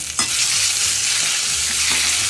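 Ginger, fennel and green chili paste fries in hot oil for dum aloo, a loud, continuous close sizzle with faint low stirring knocks beneath it.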